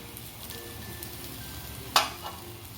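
Upvas potato filling with coriander sautés in a pan with a soft, steady sizzle, broken by one sharp clink of a utensil partway through.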